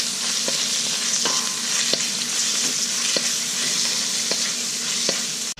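Ground lean beef frying with garlic in a pan, a steady loud sizzle throughout with regular light clicks of a utensil stirring the meat, close and continuous with no talking.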